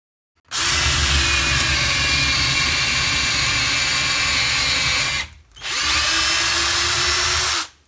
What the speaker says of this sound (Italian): Tolgo la percussione, facciamo un foro con questa punta da 8 mm.